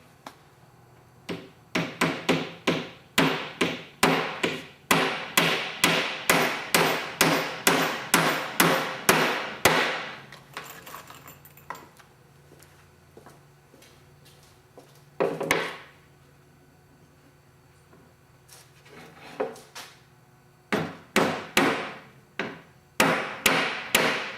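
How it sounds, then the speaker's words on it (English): Hammer drives 10D framing nails into wood while framing an oven: fast, steady runs of loud, sharp blows with short pauses between sets, then a few scattered strikes and a final quick burst. "we'll just use regular 10D nails, framing nails, to frame the oven"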